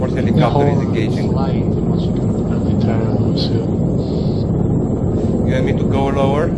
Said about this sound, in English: Transport helicopter is engaging.